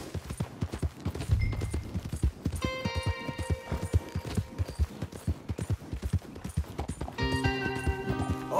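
Rapid hoofbeats of galloping horses pound steadily and close in the video game Red Dead Redemption 2, with a horse whinny and brief sustained musical tones over the rhythm.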